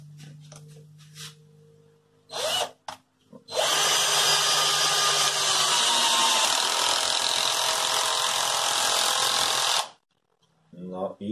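A NITEO Tools 20V impact drill-driver set to first gear drives a screw with a loud, steady whirring whine for about six seconds, preceded by a few short clicks and bursts and ending abruptly.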